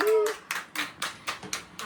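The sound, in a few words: family clapping hands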